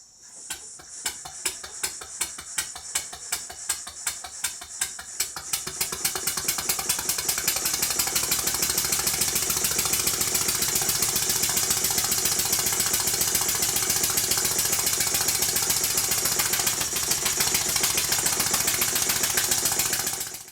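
A small Stuart No. 4 steam engine running on compressed air chuffs in a rapid, regular rhythm, starting slowly, then speeding up and running fast and steadily up close.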